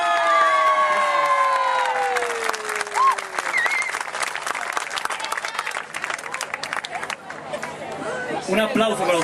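An audience at a Paraguayan bicentennial concert in Barcelona claps and cheers as a song ends, the last sung notes fading under a dense burst of applause that thins and then picks up again.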